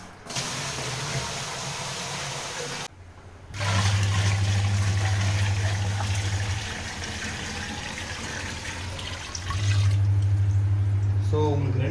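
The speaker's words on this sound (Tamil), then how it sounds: "இப்போ நான் பக்கெட்டில் எடுத்து தண்ணியை ஊற்றிக்கிறேன்." Water poured from a bucket into the tub of a compact washing machine, a steady broadband rush and splash that continues through the clip, with a low steady hum rising under it in two stretches.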